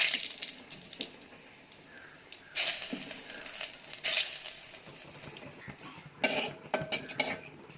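Cardamom pods go into melted ghee in a cooking pot, giving a few scattered clinks and rattles of utensils against metal over soft background noise, with no one speaking.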